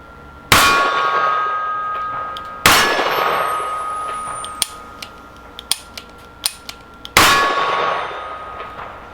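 Three loud .44 Magnum shots from a Smith & Wesson Performance Center Hunter revolver, each followed by a long ringing clang as the steel silhouette target is struck, with lighter metallic clicks of handling in between.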